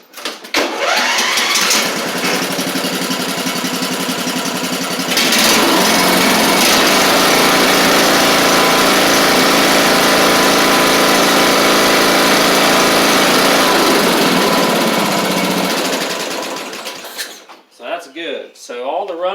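A Craftsman LT2000 lawn tractor engine, freshly fitted with a new carburetor and its old starter, cranks and fires, then runs loud and close with a rise in revs before shutting down, leaving some rattling at the end.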